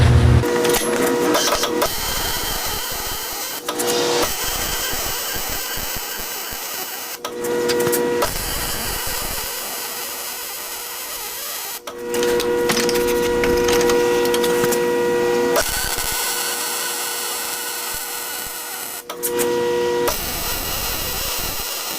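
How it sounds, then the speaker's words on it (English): A welding arc crackles and buzzes in several long bursts separated by short pauses as a turbo exhaust manifold pipe for a 6.9L IDI diesel is welded in place. The sound is close and steady, with no talk. "now all I need to do is weld it all in place"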